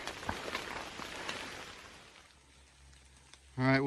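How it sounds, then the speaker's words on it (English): Steady rain patters on the ground and leaves along the Appalachian Trail near a shelter, a dense close hiss that thins out before a voice cuts in at the end. "it's still raining and everything's fogging up"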